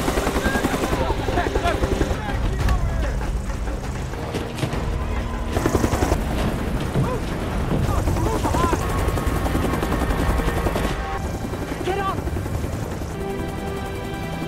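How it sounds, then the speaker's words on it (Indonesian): A Black Hawk helicopter approaches over a hill outside a cave, its dense rotor chop filling the scene at close range and mixed with bursts of gunfire, booms and loud action sound effects. "di atas bukit luar gua, helikopter Black Hawk mendekat"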